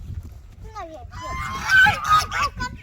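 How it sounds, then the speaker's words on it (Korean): A goose honks loudly several times in a noisy outdoor farm setting, with faint voices around. "거위가 우는 소리에 미니들이 놀랐나 봐요."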